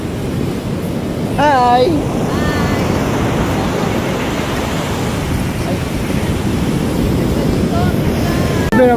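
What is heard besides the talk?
strong ocean waves at the beach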